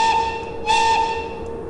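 A steady, multi-toned train whistle sounds from a Krokodil electric locomotive in the game Train Simulator 2013, sustained across the moment with a brief louder swell partway through.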